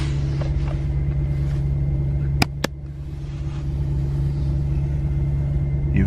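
A Mercedes C63 AMG W204 engine rumbles low and steady from inside the cabin, with two sharp clicks partway through and a brief dip in the drone before it settles again, no voices.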